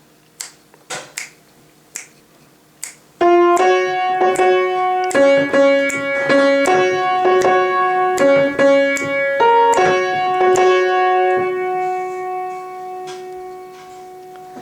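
Several sharp finger snaps come first, then a bright looping synth-like melody played on piano in repeating short notes, with snaps continuing as a steady beat underneath.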